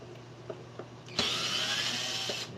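A power drill drives a screw into wood during a winged-bowl woodturning project, a few faint taps and then one steady, loud, close whir lasting over a second before cutting off.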